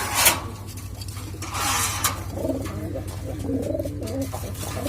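Pigeons coo in soft, repeated rolling calls in a loft during breeding season, with a steady low hum running underneath and a brief sharper noise near the start.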